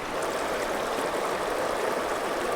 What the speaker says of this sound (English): crystal clear water in this river